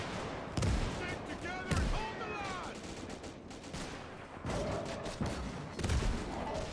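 A video game battle with anti-tank guns firing armor-piercing rounds at tanks: sharp gunshot bursts recur every second or so amid continuous combat noise, with radio-style voices and whistling sounds threaded through.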